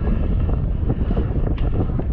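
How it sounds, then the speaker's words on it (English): Gusty wind buffets the microphone on the deck of the cruise ship Carnival Panorama, a low, continuous roar and rumble with no other clear sounds over it. "A little windy out here,"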